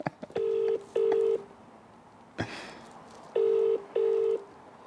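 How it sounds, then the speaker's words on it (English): Telephone ringback tones of an outgoing call: four evenly spaced paired electronic beeps, loud and close, with a soft click between the pairs. "Come on, Craig, answer your phone."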